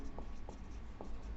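A pen scratches across paper while an algebra equation is written out, producing a few soft scribbling strokes close by over a steady low background hum, with no talking.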